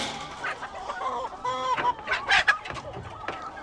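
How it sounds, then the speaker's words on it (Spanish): A breeding fighting rooster clucks and makes short throaty calls close by, a series of bursts over quiet background, with faint talk behind. "Pero está hermoso ese gallo"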